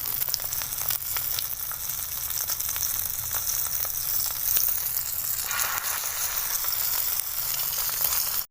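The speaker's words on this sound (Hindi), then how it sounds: "तवे के ऊपर ऑयल डाल के इस तरह एक एक करके हम टिक्कियाँ रखते जाएंगे।" Shami kabab patties fry in oil on a flat tawa with a continuous close, even sizzle that swells slightly midway, with no talking.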